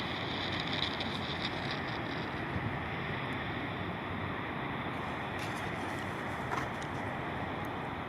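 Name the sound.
SpaceX Falcon 9 rocket launch climbing after liftoff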